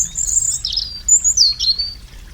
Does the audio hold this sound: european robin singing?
yes